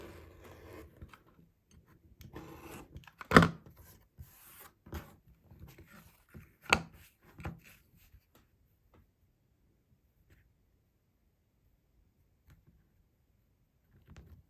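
Quilting fabric is trimmed to size with a cutter on a mat, giving a few sharp close cuts and soft scraping rubs in bursts, then near silence with only faint handling noises.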